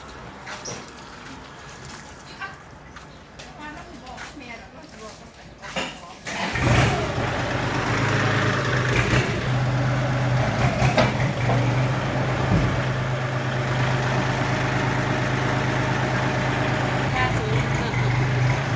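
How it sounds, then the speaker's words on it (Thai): An L3608 farm tractor in Non Sila district, Khon Kaen, driven by the village headman, starts up about a third of the way in and then runs steadily with a loud, close, low drone. People talk over the engine. "รถไถผู้ใหญ่บ้านขับเองครับ"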